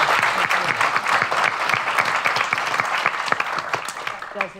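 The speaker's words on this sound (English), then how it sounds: "Let's give them a round of applause." A room full of people at a symposium clapping steadily, a loud dense applause that holds for several seconds before tapering slightly at the end.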